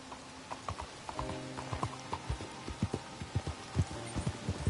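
Horse hooves clip-clopping at a steady walking pace in Red Dead Redemption 2, crisp regular hoof strikes growing gradually louder and closer, with faint creaks of tack between steps and no talking.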